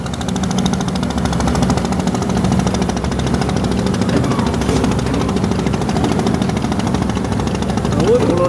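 A passenger launch engine throbs at the Sadarghat ferry terminal in Old Dhaka, a steady loud chugging drone with rapid knocking pulses, while people talk nearby.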